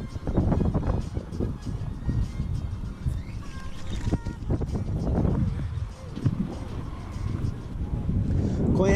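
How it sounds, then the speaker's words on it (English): Strong gusty wind buffets the microphone in heavy rumbling bursts, loud and continuous, with a voice speaking underneath. "The wind is coming towards me right here"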